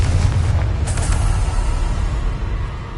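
A Confringo fire spell explodes in Hogwarts Legacy, a loud booming blast with a rumbling low-end tail that stays heavy for the whole stretch.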